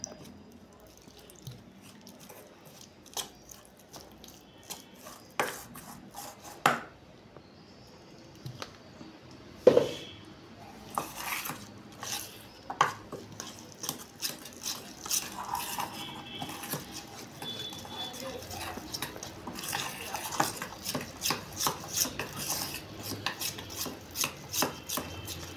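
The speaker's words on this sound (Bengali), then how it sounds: "এবার আমি অল্প করে জল দিয়ে ব্যাটারটাকে একটু থকথকে ব্যাটার করে নিচ্ছি" Besan and rice flour batter for pui leaf fritters being stirred with a little water in a bowl, giving soft wet squishing and scattered clinks of spoon against the bowl, close and irregular, with no talk.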